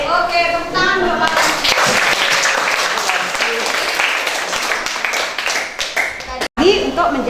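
High school classroom students clapping together after a brief voice, a dense burst of hand claps that carries on for several seconds before dropping off abruptly.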